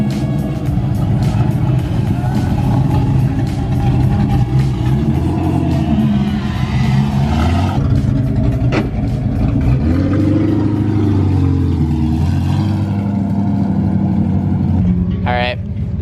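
A Ford 5.0 Foxbody drift car's V8 engine runs loudly and steadily throughout, with a low droning rumble, swelling revs and a brief high squeal near the end, while people talk over it.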